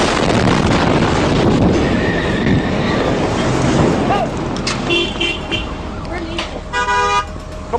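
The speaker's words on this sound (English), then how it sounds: "It's a train, yeah." A train strikes a trash truck and derails, producing a loud roaring rumble that gives way to horn-like toots and sharp metallic harmonic tones near the end, with shouting voices over the noise.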